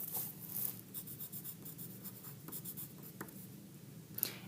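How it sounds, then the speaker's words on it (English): Pencil writing a name on paper at a school desk, with scratchy strokes and short taps repeating over several seconds, close up and fairly quiet, with no talking. "I'm going to go ahead and put my name on my paper"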